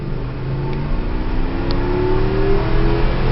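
A 2005 Dodge Dakota V8 revs steadily for a few seconds. A low engine drone carries a tone that rises gradually as the revs climb, and there is no talk.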